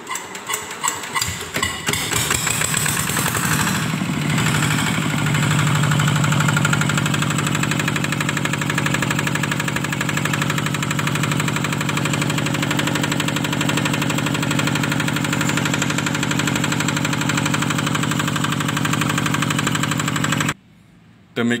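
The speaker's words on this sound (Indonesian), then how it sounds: "Kemudian hidupkan mesin." A diesel engine starts and runs after its fuel injection pump is disassembled and reassembled, settling into a loud, steady knocking idle that continues for about twenty seconds before cutting out abruptly near the end.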